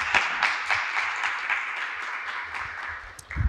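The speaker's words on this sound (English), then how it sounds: "And now can I get a round of applause for all of our allies here today?" A student union culture show crowd applauds, a continuous patter of many clapping hands that tapers slightly near the end before a low thump.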